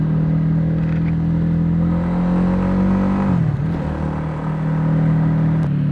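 The 150cc fuel-injected, liquid-cooled engine of a Honda Winner X 150 motorcycle drones steadily and loudly while riding, its pitch dipping briefly midway before settling back, with no talking.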